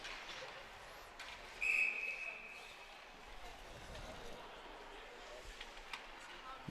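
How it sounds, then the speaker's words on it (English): Brief sharp referee whistle blast at a varsity boys ice hockey game, heard once amid rink crowd noise and commentator talk. "And we've got a whistle."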